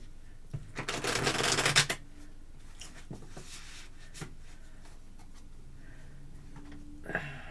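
Tarot cards being shuffled, a dense burst of riffling flutter lasting about a second, followed by quieter taps and a brief card snap near the end.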